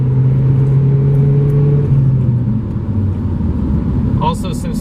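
A 2013 Mazda Speed 3 drives fast through corners, its engine droning steadily with slight pitch shifts and road noise from inside the cabin, a short voice-like sound near the end.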